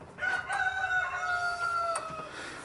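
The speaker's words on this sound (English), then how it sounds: "And of course we've got Henry the rooster in here, and he's in here because we've got all the other roosters outside." A rooster crows indoors in a farm barn where rabbits are also kept, one long harmonic call rising and holding for about two seconds, fairly close and clear over a steady background hiss.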